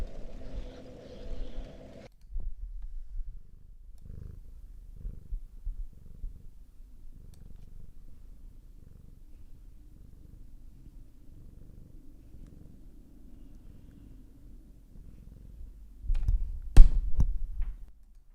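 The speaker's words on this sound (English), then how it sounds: "He's purring, by the way." A cat purring, a soft low continuous rumble held close and faint through most of the stretch, with brief louder bumps near the end.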